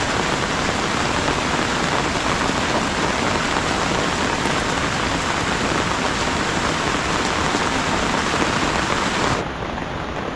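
Heavy rain pours steadily on a farm where cattle are kept, a dense, loud, unbroken hiss that dips slightly near the end.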